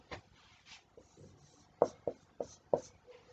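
Handwriting on a surface, a few soft pen strokes followed by four distinct sharp taps or marks in quick succession, quiet and close.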